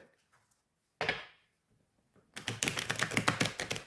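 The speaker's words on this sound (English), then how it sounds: "So let's see what it shuffles like." Beautiful Korea tarot cards are riffle-shuffled up close in a quiet room, giving a brief flick and then a dense, rapid fluttering patter of card edges that builds toward the end.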